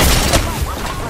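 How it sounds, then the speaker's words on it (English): Gunfire in the video game Apex Legends, a dense, continuous rattle of shots and impacts across a short burst, with faint voices mixed underneath. "Enemy. I'm getting shot."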